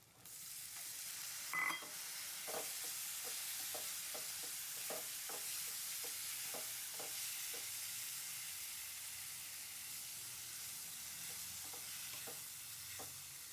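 Tomatoes go into a hot pan for kabuli chana curry and are stirred. A faint, steady sizzle carries a regular series of soft spoon scrapes and taps, with one slightly louder clatter near the start.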